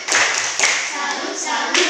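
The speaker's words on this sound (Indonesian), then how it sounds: "Tepuk tangan dulu untuk kelompok 2." A school class in an Indonesian lesson gives a short, close burst of rhythmic group clapping for a team of classmates, a few sharp beats in quick succession.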